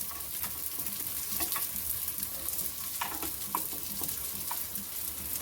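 Cheese balls roast in a pan over low gas with a soft, steady sizzle and occasional light clicks as they are turned, heard close with no talk.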